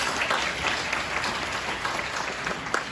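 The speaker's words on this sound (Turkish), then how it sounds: "Alkışlarla başarılar diliyoruz." An audience at a school mind and intelligence games tournament claps in steady, moderately loud applause that fills the whole stretch, with a faint murmur behind it.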